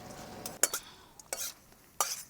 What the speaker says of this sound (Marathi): अर्धी वाटी आपण हरभऱ्याची डाळ घेतली, ती भाजून घेऊ